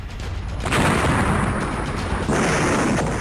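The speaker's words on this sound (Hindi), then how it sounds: "खरलाची और मनुजाबा फोर्ट के पास तोपों की लड़ाई चली।" Heavy artillery fire from a battle near Kharlachi and Manujaba Fort on the Pakistan-Afghanistan border: loud, close booming blasts with rumbling roars, two main impacts rolling into each other.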